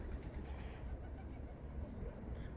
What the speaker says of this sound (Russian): Голуби тут с ума сходят.